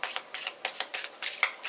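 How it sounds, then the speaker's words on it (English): Tarot cards are shuffled in quick riffling bursts, several crisp papery flutters in a row, close and fairly quiet. "Do 3 shuffles."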